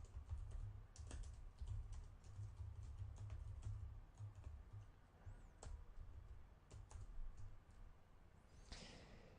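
Computer keyboard keys clatter in quick, irregular bursts while Java code is typed in the Eclipse IDE, close and fairly soft over a low steady background hum, with no talking.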